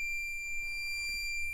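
During key programming, a 2003 Toyota 4Runner gives off a continuous high electronic beep tone that stays steady and moderately loud, with a faint low hum underneath.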